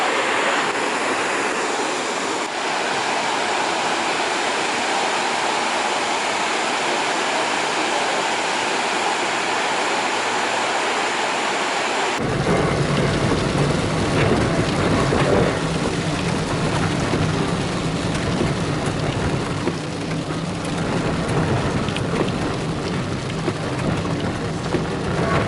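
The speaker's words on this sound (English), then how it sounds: "this is another waterfall, but this one's a little bit different" A waterfall in Cambodia roars as a loud, unbroken wash of falling water, dense and steady throughout, with the tone shifting partway through as the vantage changes; no voices.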